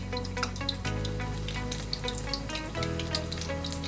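Oil heating in a pan for tempering ven pongal, a steady close sizzle and crackle with a faint watery hiss running throughout and no voices.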